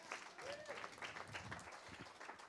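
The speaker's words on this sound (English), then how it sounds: "a big applause for the team here" A small audience gives the team a burst of clapping, a faint, patchy patter of hands throughout, with speech mixed in.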